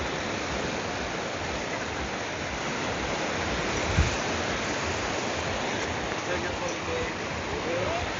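Waves wash steadily on Tsilivi Beach in Zante, a broad continuous surf roar with no clear break, while people talk quietly beneath it.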